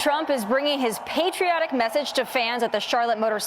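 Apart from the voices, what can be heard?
No everyday noises stand out.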